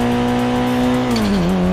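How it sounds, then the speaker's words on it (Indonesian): A car in a video game runs with a loud, steady engine drone and continuous tire squeal, the pitch dipping and then recovering as the car slows, with no talking. "Udah mulai pelan ini mobil."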